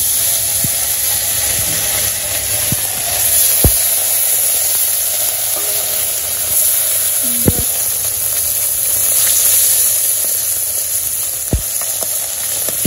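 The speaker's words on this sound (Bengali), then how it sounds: "মাছগুলা মাখিয়ে রাখছিলাম তেল গরম হয়ে গেছে দিয়ে দিই" Marinated small fish sizzle in hot oil in a village kitchen, a steady close frying hiss with a few sharp knocks of utensils, no talk.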